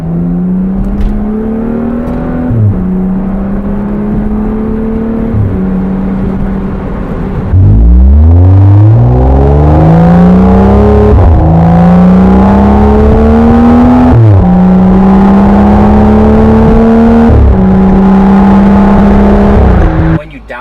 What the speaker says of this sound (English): I don't know if you guys can hear the popping and crackling of the exhaust.